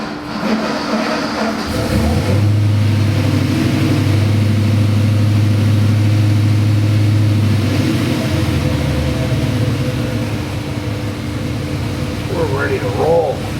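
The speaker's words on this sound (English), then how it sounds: "Let's take care of the dyno run." A Gen III Hemi engine, built to around 900 horsepower, runs on a dyno, starting after a brief quiet moment with a loud, steady, droning roar that holds for several seconds and then eases into a lower rumble.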